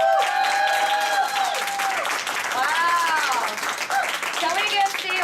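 An audience at a talk breaks into loud, continuous applause, the dense clapping mixed with whoops and cheering voices throughout.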